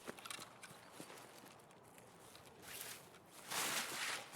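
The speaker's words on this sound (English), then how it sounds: "I thought I heard some more footsteps" In Escape from Tarkov, quiet, irregular footsteps scuff and tap at a distance, growing into a louder shuffling burst near the end.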